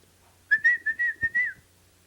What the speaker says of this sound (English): That's how he used to whistle when he'd bring the dishes in.